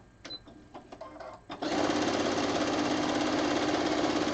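A sewing machine runs steadily during free motion quilting, starting after a few light handling clicks and then whirring fast and constant at close range, with no talking.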